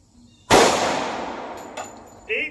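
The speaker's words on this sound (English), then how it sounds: "Federal Syntech Defense 5-inch Kimber shot went in right here" One loud, close gunshot from a 5-inch Kimber .45 pistol firing Federal Syntech Defense ammunition, with a sharp report that decays over about a second, followed by a faint clink and a short tone.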